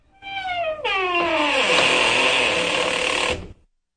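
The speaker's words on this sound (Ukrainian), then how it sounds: "Скрипнули двері." A long, loud door creak that starts as a wavering groan and rises into a harsh, strained squeal before stopping abruptly.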